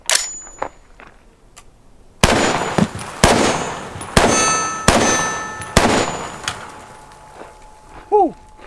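An SR25-clone .308 rifle fires five sharp, loud shots at intervals of about a second, each followed by a ringing clang from steel targets, with a voice briefly heard near the end.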